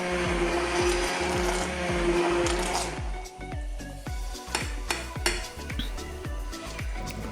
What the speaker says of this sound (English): using the stick blender, I'm going to whiz up this pumpkin to make a really thick and delicious creamy soup